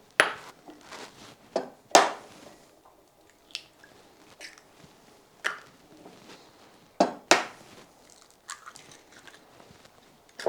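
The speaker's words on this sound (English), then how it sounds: "I like to crack them right in the bowl." Eggs cracked one after another into a mixing bowl of pecan cheesecake batter, giving a string of sharp, close, separate cracks and taps with short wet drips in between, with no voices.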